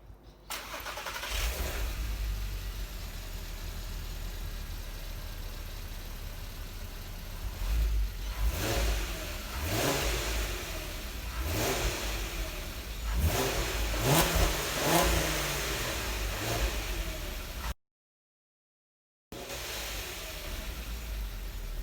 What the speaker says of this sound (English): I'm going to do the obligatory before exhaust sound